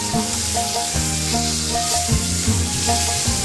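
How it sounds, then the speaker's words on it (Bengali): Close, steady sizzle of pomfret fish frying in mustard oil in a pan, a bright unbroken hiss that stays loud throughout over faint background music, with no speech. "মাছটা আমার এক পিঠ ভালোভাবে ভাজা হয়ে গেছে।"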